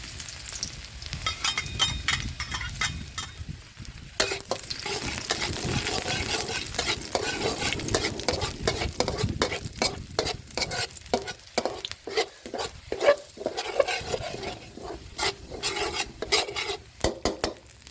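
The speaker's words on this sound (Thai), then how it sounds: "เริ่มด้วยน้ำมันพืชเล็กน้อยครับ ตามด้วยกระเทียมสับนะครับ ลงไปเคี่ยวให้หอมก่อนครับ" Chopped garlic stir-fries in a little vegetable oil, a steady close sizzle broken by repeated rhythmic scrapes and clacks of a spatula against the pan, growing busier partway through, with no voices.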